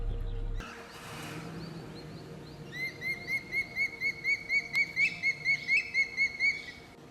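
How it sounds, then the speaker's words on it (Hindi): A changeable hawk-eagle gives a series of about a dozen high, shrill whistled calls in steady rhythm, growing louder, after a quiet start. "ये है चेंजेबल हॉक ईगल, यानी एक प्रकार का शिकारी पक्षी"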